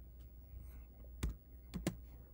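Mouse clicks as the like button is pressed: one sharp, close click, then two quick clicks in succession a moment later, over a quiet low hum.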